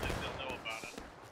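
Rifle volleys from the Civil War-era game War of Rights, a few sharp cracks popping out of a dense battlefield din, with soldiers shouting and talking over the gunfire.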